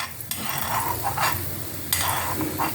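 Urad dal sizzles in hot oil for tempering a poricha kootu, a steady close crackle with a spoon stirring and scraping the pan in between, and no voices.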